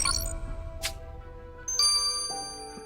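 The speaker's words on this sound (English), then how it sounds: "Hey, we leveled up." Level-up chime in the Criminal Case game, bright ringing dings and tinkling bell tones, a quick sweep and a single ding followed by a louder sustained chime cluster, clear and alone.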